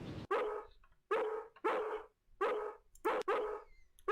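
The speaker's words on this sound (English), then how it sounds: "Once he gets barking, a good piece of meat is the only way to shut him up." Dog in the video game Harvester barking repeatedly, six sharp close barks in an uneven rhythm with brief silences between them, loud and alone.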